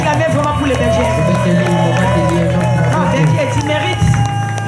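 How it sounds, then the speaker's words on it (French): A church congregation cheering and acclaiming, with loud, sustained crowd shouts and whoops over a continuous bed of music, close and dense for the whole stretch. "Est-ce qu'on peut acclamer vraiment pour les bergers?"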